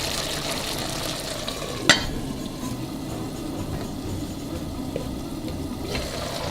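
Lamb plov with garlic heads and peppers being stirred in a pot, a steady sizzling hiss under soft scraping, with one sharp clank near the start and no talking.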